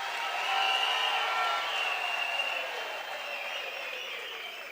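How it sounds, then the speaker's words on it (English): Sustained applause from a large crowd at a university graduation ceremony, a broad wash of clapping heard from some distance that holds steady and slowly eases off. "Can you give yourselves a big round of applause?"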